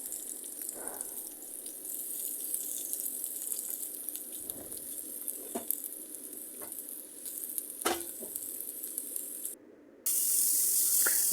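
Carrots sautéing in oil in a pan for veg penne pasta, a steady close hiss and sizzle with occasional stirring scrapes, no talk.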